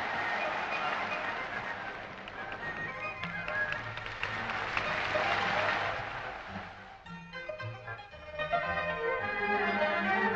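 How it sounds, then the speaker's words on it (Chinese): A theatre audience applauds a live kung fu performance by a touring Chinese wushu troupe, a dense, steady wash of clapping that dips briefly and then swells again while music sounds underneath. "他的表演引起了全场观众的热烈掌声"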